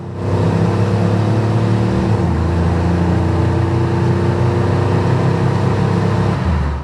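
A 1992 Chevrolet 454 SS pickup truck's V8 engine roars loud and close as it accelerates hard, a deep rumbling drone that stays strong throughout.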